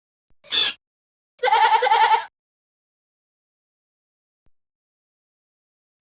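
Two sheep bleats in a recorded children's story, a short cry followed by a longer wavering one, clear and close with silence between.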